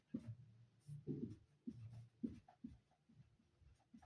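Handwriting during a Hindi class 10 maths lesson on real numbers: close, irregular scratchy strokes and taps over about four seconds, with short pauses between marks and no talking.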